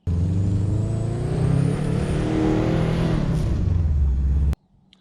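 Turbocharged Subaru engine labouring up a mountain hill, a loud steady drone with a rising whistle, cutting off abruptly near the end.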